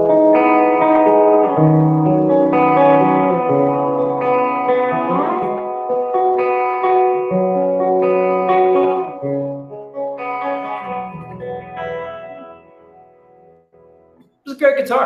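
A D'Angelico electric guitar rings out in clean tones with chords and sustained notes over several phrases, some reverb on the sound, fading out before a brief final noise.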